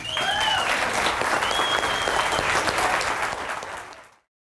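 An audience at a political forum in Superior, Montana, breaks into loud, sustained clapping that holds steady for several seconds, then quickly fades to silence.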